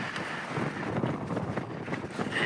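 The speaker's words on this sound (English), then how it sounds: "That wind is really picking up." Strong wind gusts buffet the microphone at a camp spot in the Uinta Mountains, a continuous rough rumble that swells and dips.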